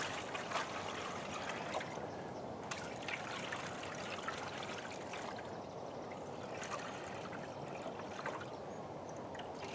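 Water trickles and splashes steadily into a compartment of a boat hull during a deck-to-hull leak test, a faint continuous dribble with small irregular spatters and no voices.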